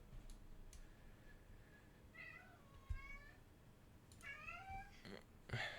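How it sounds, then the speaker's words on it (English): A pet cat meows loudly and repeatedly in the background, a string of drawn-out cries coming in bursts over a steady low hum, with no talk. "Don't mind my cat shouting in the background."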